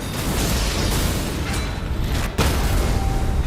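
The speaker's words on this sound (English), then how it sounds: "a powerful single attack that launches an iron stake with a great explosion" A heavy explosive blast from Elden Ring Nightreign as the Wilder's Onslaught Stake launches an iron stake. A dense rumble builds, cuts off sharply, then bursts back as a loud boom.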